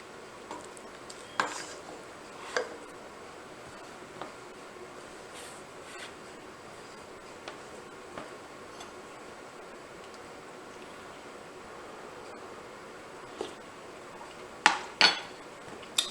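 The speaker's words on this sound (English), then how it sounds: "give it a stir and we'll give it another taste." Caldo verde soup being stirred in a pot, with scattered light scrapes and clinks of a utensil against the pot over a quiet background, the sharpest knocks near the end.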